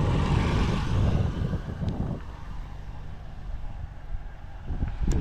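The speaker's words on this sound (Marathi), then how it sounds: "ही आमची गाडी आली चहा पाण्याची." A vehicle arriving at a rural Konkan village gathering, a loud low engine rumble with wind buffeting up close that eases off to a steadier hum, with no talk.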